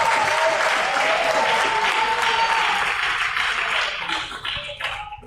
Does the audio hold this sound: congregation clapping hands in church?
yes